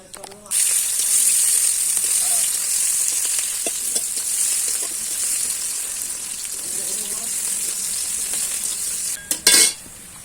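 Onions dropped into hot mustard oil with cumin already in the pan hit with a sudden loud hiss that settles into a steady close sizzle, broken by a few utensil taps and a clatter near the end.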